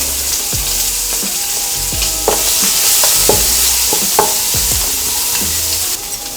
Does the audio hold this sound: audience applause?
no